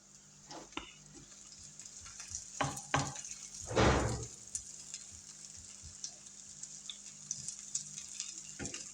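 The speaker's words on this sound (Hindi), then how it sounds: "अब इन दोनों ही को हम अच्छे से फ्राई करेंगे" Onions and bitter gourd (karela) frying over slow heat in a pan, a soft steady sizzle marked by a few scattered clicks of a spoon and one louder stirring scrape.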